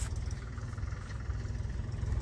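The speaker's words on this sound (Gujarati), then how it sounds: "જો આ ટ્રેક્ટર પાછળ આવ્યું છે" A tractor engine rumbles faintly from behind on a farm field, a low steady idling drone with slight pulsing and no voices.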